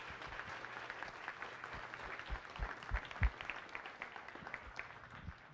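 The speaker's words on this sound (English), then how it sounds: "Let's give her a round of applause." An audience at a science cafe talk applauds steadily, a dense patter of many hands clapping at moderate volume for several seconds.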